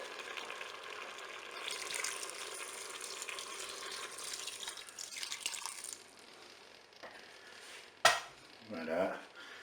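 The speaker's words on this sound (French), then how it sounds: "il ne me reste plus qu'à couvrir avec un petit peu d'eau" Water pours steadily into a Cookeo multicooker pot over duck strips and honey, a rushing hiss lasting several seconds, followed by a sharp metallic clink and a brief rattle.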